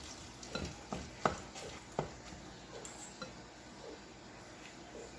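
Stirring stuffed chicken filling with bacon and cheese: a spoon scrapes and thumps through the mixture in uneven strokes, with several sharper knocks against the bowl, close and fairly quiet.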